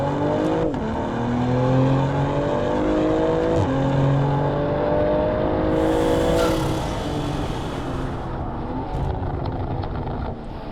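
A 592 hp, four-wheel-drive Stage 3 BMW M340i G21 accelerates hard. Its loud, close engine note climbs steadily through gears, with brief dips at each shift and a sharp burst around the final change, and no talking.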